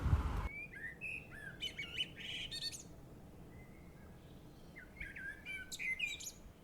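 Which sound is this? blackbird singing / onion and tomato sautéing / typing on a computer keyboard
blackbird singing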